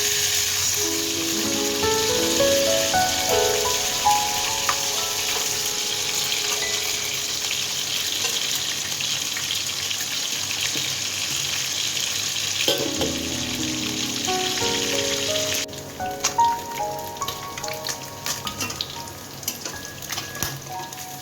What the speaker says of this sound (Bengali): এই যে আমি সুন্দর করে উলট পালট করে ভেজে নিব